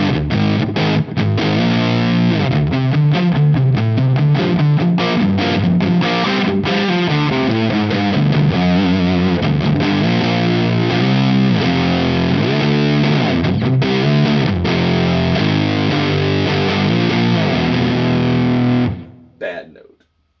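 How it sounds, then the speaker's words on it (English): Electric guitar played through a Frost Giant Mountain V3 distortion pedal on its overdrive setting into an amp with extra gain, a loud, continuous crunchy riff that rings out and cuts off near the end. "Let's go back to the overdrive setting now that we have some more gain on the amp"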